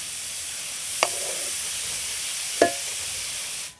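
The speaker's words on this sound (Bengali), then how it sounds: "এবার আমি আস্তে আস্তে এটাকে নাড়তে থাকবো এইভাবে।" Papaya halwa stirred slowly in a pan over a low flame, with two soft, separate spoon scrapes over a steady gentle hiss.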